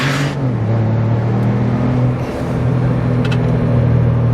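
A Ford EcoBoost truck fitted with a performance tuning module holds a brake-boost launch, its engine droning loud and steady at raised revs with a slight pitch dip midway, close up and with no voices.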